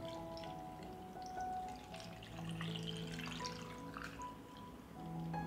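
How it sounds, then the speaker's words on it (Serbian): Salted whey pours into a glass jar with a soft trickling, dripping splash that runs steadily through the clip at close range, with no talking. "I sada ću surutku sipati u teglu."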